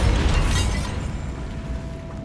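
A Bombarda spell blast in Hogwarts Legacy: one loud, deep explosion with a heavy boom at the start that rumbles and fades out over a couple of seconds.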